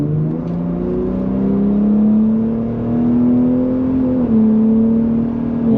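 2024 Ford F-150 Raptor with 3.5L twin-turbo V6 in sport exhaust mode accelerating hard, a steady rising engine drone climbing through the gear with one shift, heard from inside the cab.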